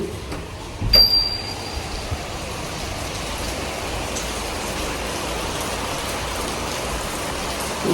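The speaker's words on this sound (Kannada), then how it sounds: "ಫುಲ್ಲು ಮಳೆ ಬರ್ತಾ ಇದೆ ಅದಕ್ಕೆ ವೆಯ್ಟ್ ಮಾಡ್ತಾ ಇದ್ದೀವಿ" A heavy downpour near the Hasanambe temple makes a dense, even roar of rain that fills the whole stretch, with one brief high metallic ping near the start.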